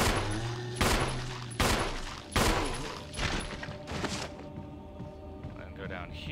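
Gunfire in the Resident Evil Remake HD video game, several heavy shots at uneven intervals fired at a crimson head zombie, loud and close, with a voice talking faintly underneath.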